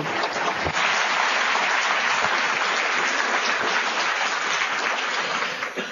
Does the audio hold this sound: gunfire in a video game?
no